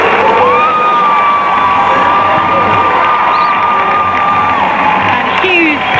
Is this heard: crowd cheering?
yes